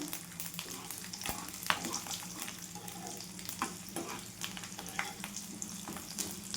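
Spice masala roasting in hot oil for a jackfruit curry, a quiet steady frying crackle broken by brief clicks and scrapes of stirring at close range, with no speech.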